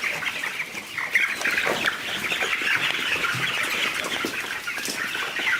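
Poultry birds at a farm at night make a steady dense chorus of squawks and chirps, close and continuous, with no talking.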